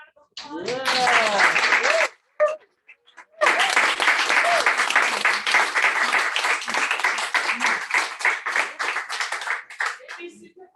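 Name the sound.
audience applause for poets at reading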